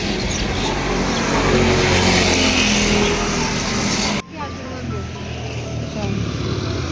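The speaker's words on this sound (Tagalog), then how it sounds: "Ayun, may tricycle." A motorized tricycle engine drones loudly and steadily at close range on the road, then drops off sharply as it goes past, while people talk over it.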